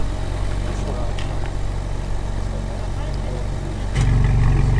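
A car's engine idling through an exhaust with remote-controlled valves, a steady low rumble that suddenly deepens and grows louder near the end, with people talking over it.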